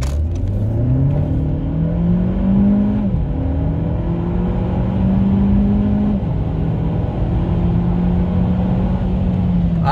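A Seat Ibiza 1.4 TSI FR with a DSG7 gearbox, Stage 1 remap and E85 ethanol fuel accelerates hard, its engine note rising steadily through several quick gear changes, loud and close from inside the car.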